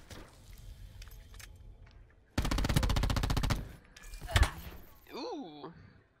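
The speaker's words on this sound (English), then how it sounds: "This peacekeeper do be shooting through the wall low key." Peacekeeper submachine gun fire in Call of Duty: Black Ops 4 during a 1v1 match, a rapid continuous burst at close range, followed by quieter in-game noises.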